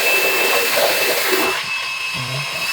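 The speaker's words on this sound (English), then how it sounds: "Switch the shaver on and put it under the running water tap." A Freebird FlexSeries Pro electric head shaver hums steadily while tap water runs over it, a broad whirring wash that drops slightly in level partway through.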